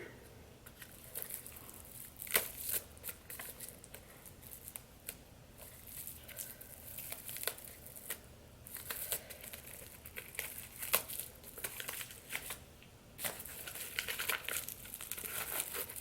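Packaging around a Sophia Webster Chiara luxury butterfly shoe box crinkles and rustles close up in steady bursts of paper handling, with sharper crackles throughout and no talk.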